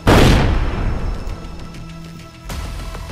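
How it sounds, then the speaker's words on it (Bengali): A single loud rifle shot fired at a man-eating tiger on a hillside, sharp onset followed by a long rolling echo that fades, then a second thump near the end; no talking. "তাড়াতাড়ি নিশানা ঠিক করে গুলি চালালাম।"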